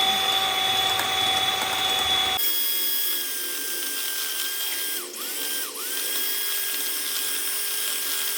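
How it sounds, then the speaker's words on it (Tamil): An electric hand mixer beats brown sugar into chocolate cake batter with a steady, close, high-pitched motor whine. Its pitch dips briefly twice as the beaters meet resistance. "இது நம்ம கொஞ்சம் கொஞ்சமாக ஆட் பண்ணி நம்ம வந்து பீட் பண்ணிக்கலாம்."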